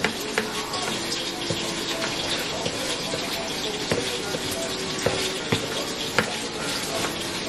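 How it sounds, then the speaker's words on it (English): Water runs steadily into a bowl of flour with a splashing, hissing wash, punctuated by small clinks and knocks. "And then I'm just gonna go ahead and start pouring some water."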